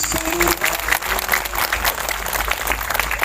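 A crowd at an Islamic religious study gathering claps steadily, dense applause continuing for about three seconds with faint voices underneath.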